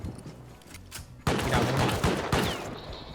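Gunfire in the survival video game Rust, a rapid burst of loud close shots cracking in quick succession, following a quieter stretch of faint game noise.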